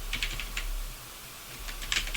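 Fingers type on a computer keyboard while entering code, a close run of light, quick key clicks in small bursts with a brief pause in the middle.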